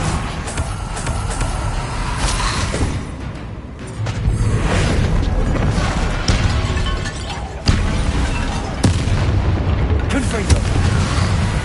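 Bombarda explosion spell going off in Hogwarts Legacy: heavy booming blasts and crashes over dense combat noise, several sharp hits, with voices talking throughout.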